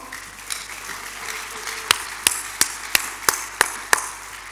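A church congregation acclaims the Lord with a run of sharp, evenly spaced claps, about eight in a row, over a low murmur of room noise.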